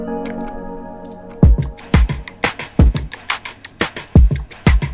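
Sustained synth tones fade into a programmed drum beat: punchy kicks with a looping layer of crisp percussion hits in a steady, upbeat rhythm.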